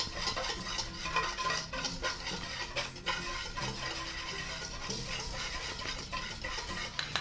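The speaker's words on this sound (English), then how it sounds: "Put our egg yolk in. Start whisking that together." Egg yolk is whisked in a bowl for Caesar salad dressing, giving a fast, continuous clatter of metal against the bowl at moderate volume with no talk.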